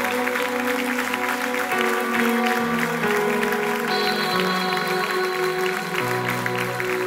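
Steady clapping from a group runs throughout, mixed with sustained music tones in the background.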